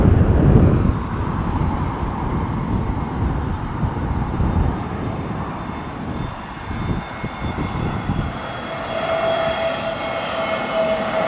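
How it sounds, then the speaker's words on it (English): Propeller aircraft engine droning overhead, a loud steady rumble that swells near the start then holds with a faint whine, with no talk. "Sound of a prop. Sound of a prop. Don't you love that sound?"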